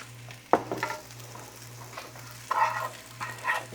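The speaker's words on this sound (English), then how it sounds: "now we add in 2 strips of bacon, maybe a 1/4 cup of sausage here" Bacon strips and pork sausage fry with rice for Japanese-style fried rice, a soft sizzle under a low steady hum, with a few stirring scrapes.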